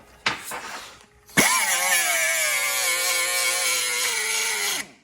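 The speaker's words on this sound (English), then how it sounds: "Kind of evenly grind all the way around until it is small enough to fit in there." An angle grinder with a small grinding disc spins up on a bench and cuts steadily into an early Ford wishbone, a loud sustained whine with a rising pitch after a brief start, running alone until it winds down.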